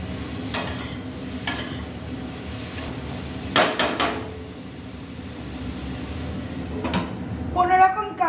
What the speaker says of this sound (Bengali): এবারে হালকা একটু নাড়াচাড়া করে ঢাকা চাপা দিয়ে রেখে দেবো